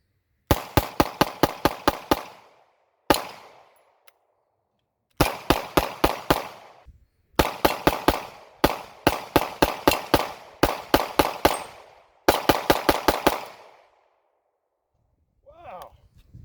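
A TEC DC9 pistol fires through a 50-round magazine in rapid bursts of sharp, loud shots with short pauses between strings, outdoors at a range, with a brief murmur of talk at the end.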